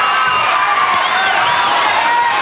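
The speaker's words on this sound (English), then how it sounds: "That brings this crowd to life." Crowd at a fight between Freddy Medrano and Shawn Yacoubian cheering and shouting loudly after a big overhand right, a dense burst of roaring and whooping voices throughout.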